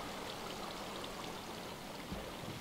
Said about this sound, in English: So we got lots of water cascading around here.